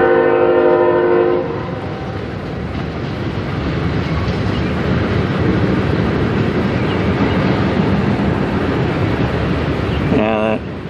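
Loud CSX manifest freight train passing near Fostoria, with a blast of the locomotive horn at the start, then a steady roar of rolling cars and a brief horn note near the end.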